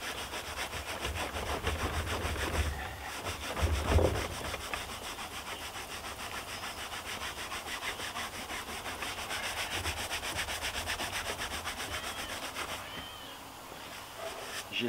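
A soft brush scrubs the fabric seat of a Fiat 500 in a steady, continuous rubbing sound that stays close and fairly quiet, with no pauses.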